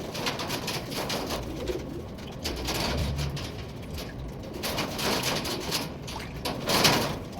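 Pigeons coo softly in a loft or coop, low murmuring calls running steadily through the background with scattered flutters and light rustling noise, no voices.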